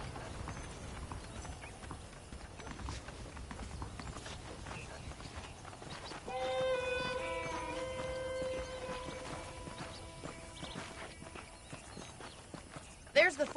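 Horses' hooves clip-clop in Red Dead Redemption on PS5, steady walking steps under a man's speech, with music swelling partway through.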